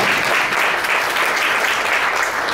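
Conference audience clapping in a mazel tov celebration, a loud, dense, even wash of many hands close by, sustained without pause or voices.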